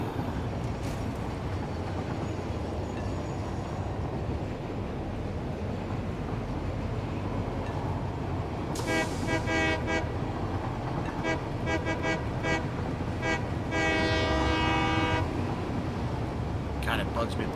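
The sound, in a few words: train running with horn in video game Satisfactory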